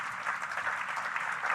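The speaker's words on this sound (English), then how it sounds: "I think you also deserve an applause" Applause at the closing of a conference as a team is called up on stage: steady, dense clapping from a moderate-sized audience, continuous throughout with no voices above it.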